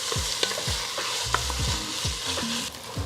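Onions being stirred in a hot pan while braising boneless short ribs, a steady sizzle broken by repeated scraping strokes of the spoon across the pan bottom, close and loud with no talking.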